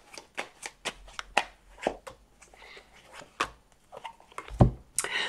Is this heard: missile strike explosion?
no